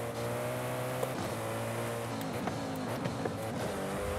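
Koenigsegg hypercar racing in Forza Horizon 5, a continuous loud engine drone with shifting pitch sweeps and a few sharp clicks, no talk over it.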